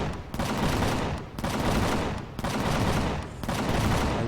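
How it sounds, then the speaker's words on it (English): Cannon turrets firing in the video game Empyrion, loud continuous bursts of rapid booming fire in four roughly one-second waves separated by short dips, dense and close with no voices. "Cannon turrets. Oh, they are shooting."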